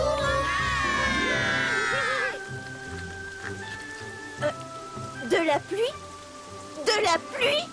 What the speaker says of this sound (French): Remplissons ces nuages jusqu'à ce qu'ils explosent de pluie.